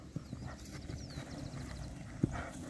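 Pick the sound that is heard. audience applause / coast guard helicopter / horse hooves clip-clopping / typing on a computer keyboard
horse hooves clip-clopping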